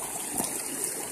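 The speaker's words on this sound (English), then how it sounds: "Right now I'm trying not to fall in the creek." Creek water runs over rocks with a light, steady gurgle and trickle. It is faint and brief, with no speech.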